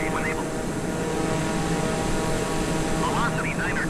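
A Pilatus PC-21 turboprop in Microsoft Flight Simulator 2020 drones steadily on approach with full flaps, a loud continuous propeller and engine roar holding even throughout, with faint radio chatter rising briefly over it.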